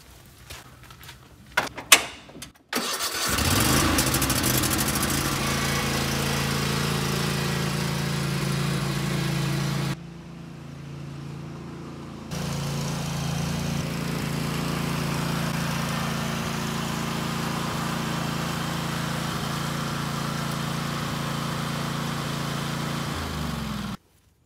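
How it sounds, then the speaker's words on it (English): A Cub Cadet 46-inch Enduro Series XT1 riding mower engine cranks after a few clicks, then runs at a steady loud drone, drops briefly to a quieter idle, revs back up and shuts off at the end. "I'd like you to meet the Cub Cadet 46-inch Enduro Series XT1."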